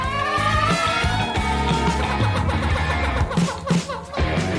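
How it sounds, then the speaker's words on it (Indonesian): Dry ice squeaks and squeals as it sublimates under a hot pan, loud, continuous, wavering tones that shift in pitch over a low rumbling background. "Es panas menguap dengan sangat cepat pada titik kontak dan mengeluarkan suara mencicit yang lucu."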